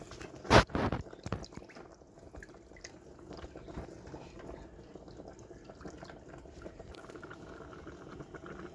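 Thick gravy bubbles and pops softly in a pot, with a sharp clatter early on and quiet scraping as it is stirred.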